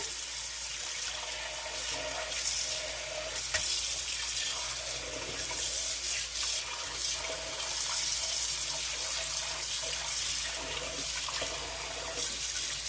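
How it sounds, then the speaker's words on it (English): A kitchen tap runs as water fills a pot for stewed cod, a continuous gushing splash whose sound shifts as the level rises, steady for over twelve seconds with no voices. "So, I'll fill this up with water."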